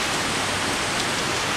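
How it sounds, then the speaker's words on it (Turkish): Rain falls in Antalya as a dense, even hiss that fills the whole moment without pause, close and fairly loud, with no voices. "Evet, Antalya'nın havası yağmura yağmura. Bereket yağıyor, bereket."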